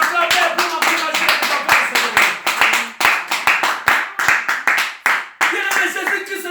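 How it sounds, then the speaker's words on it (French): A church congregation claps in rhythmic unison, steady beats filling a lively room to cheer on the pastor, with singing or voices carrying over the clapping. "Acclamez pour l'encourager"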